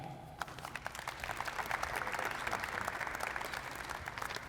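Audience applause at Murray State University's 85th annual Spring Senior Breakfast, a roomful of hands clapping in a dense, even patter for a few seconds after a brief moment of quiet.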